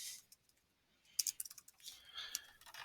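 Typing on a computer keyboard while entering text in a slide program, a burst of quick light key clicks after a near-silent pause, close and quiet.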